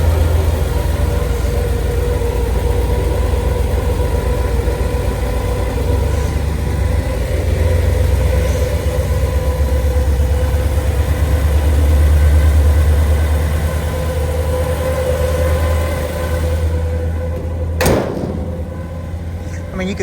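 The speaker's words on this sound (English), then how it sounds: "Tiny little rumble to the exhaust, nothing too crazy." A 1962 Chevrolet Bel Air sedan with an inline-six engine and factory automatic idles smoothly, a steady low exhaust rumble running throughout, with a brief sharp clunk near the end.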